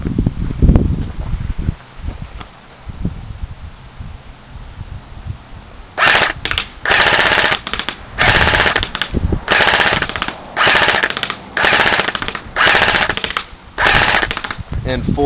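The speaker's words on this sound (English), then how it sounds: "I'm actually going to do it in full auto this time and see if the results change any." A Classic Army SL8 airsoft rifle fires several rapid full-auto bursts, crisp and close, separated by short pauses, after a stretch of someone talking over rustling wind.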